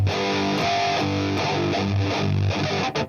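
Distorted electric guitar chords ring out loud and sustained, a chorus part being tracked for an original song, with rhythmic chord changes and no talking.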